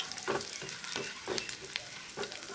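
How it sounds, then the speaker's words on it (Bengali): Dried chili, chopped ginger and garlic cloves sizzle in hot oil for a lentil dal tempering, with a steady fry broken by several rhythmic stirring scrapes, close and clear with no voices. "খুব ভালো করে ফোড়নটাকে একটু নাড়াচাড়া করে নিচ্ছি।"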